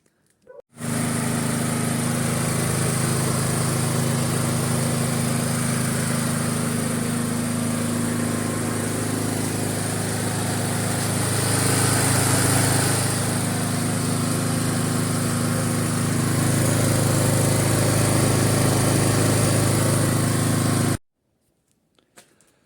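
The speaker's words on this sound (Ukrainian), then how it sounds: "Генератор зайняв своє місце. Прогрів його на новому маслі." A DWT 3 kW portable generator engine runs steadily on fresh oil as it warms up, a loud, continuous buzzing drone close by that holds for about twenty seconds before cutting off abruptly, with no talking.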